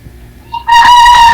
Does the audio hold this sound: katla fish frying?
no